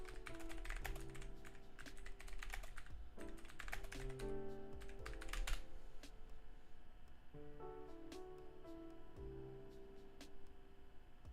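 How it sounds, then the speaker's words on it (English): Rapid clacking of a computer keyboard, dense irregular bursts of keystrokes with brief pauses, close and fairly quiet, with faint background music underneath. "Instead of having that ASMR of me typing"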